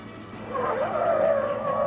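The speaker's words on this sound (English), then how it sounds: "From 30 miles an hour, it only took 36 feet to stop." A Buick with a V8 and 3-speed automatic brakes hard from 30 mph, its tires squealing in a wavering skid lasting under two seconds.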